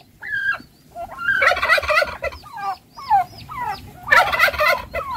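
Turkeys on a backyard farm gobbling loudly and close, several rapid rattling gobble bursts breaking out in turn with short pauses between them and no talking.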